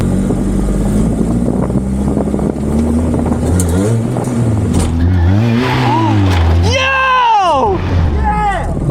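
A car engine revs hard and climbs in pitch as it launches off a home-built ramp, then lands, with excited shouting from people nearby over the engine noise.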